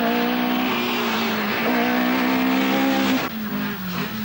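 Talbot Sunbeam Lotus rally car on the 1982 RAC Rally, a high-pitched engine note held under load and shifting in pitch, loud and close, dropping off sharply near the end.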